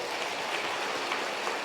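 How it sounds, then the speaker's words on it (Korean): Audience applause at a housing association members' meeting, a soft, even patter of many hands clapping steadily at moderate distance for the whole stretch. "박수 한번 주세요."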